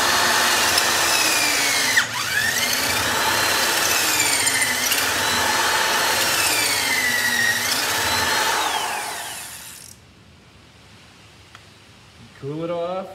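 A power drill boring into lead ballast for a boat's centerboard pin, a loud continuous whine that wavers in pitch under load for about ten seconds, then stops, followed by a brief voice.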